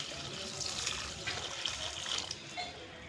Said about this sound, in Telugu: మనం పచ్చి చేపలు ఎట్లా కడుగుతాం ఎట్లా కడగాలి